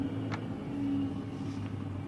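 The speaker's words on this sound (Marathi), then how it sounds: "बटन स्टार्ट गाडी आहे" A Suzuki car with push-button start idling after starting, a quiet low steady engine hum, smooth and close, with no sharp crank or revving.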